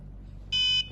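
The buzzer on an MQ5 gas sensor circuit gives a single short, steady electronic beep lasting about a third of a second, loud and close over a quiet low hum.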